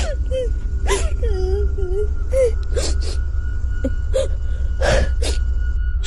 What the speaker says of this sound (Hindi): तभी एक बार फिर से रोने की आवाज आने लगती है।